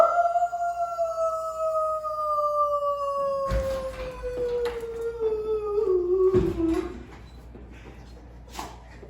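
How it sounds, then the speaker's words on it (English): Pet dogs howl together in long, drawn-out, gradually falling tones, close and loud, breaking into a few rough yips before trailing off into quiet. "howls from my pups to you"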